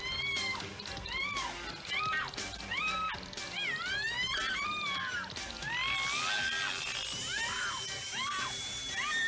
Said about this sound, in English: That's a pretty good scream.